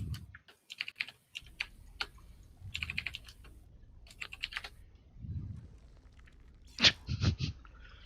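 Computer keyboard typing during an online match session, appearing as quick bursts of clicky keystrokes separated by short pauses, moderately close and fairly quiet, ending in a louder flurry of hard key presses.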